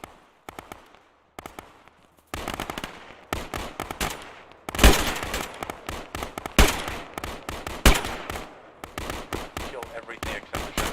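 Video game gunfire crackles in sharp, uneven bursts and single loud shots, building from scattered pops to a dense exchange, with little talk over it.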